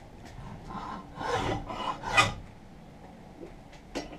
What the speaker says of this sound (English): I would use this heavy rasp, which works just fine too